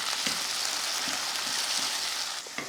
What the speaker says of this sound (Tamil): சேர்த்து வதக்கி விடுவோம்